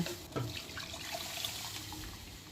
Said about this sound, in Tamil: தேவையாக இருக்கிற அளவுக்கு தண்ணி ஊற்றிட்டு அந்த பருப்பை அதில் ஊற்றிடலாங்க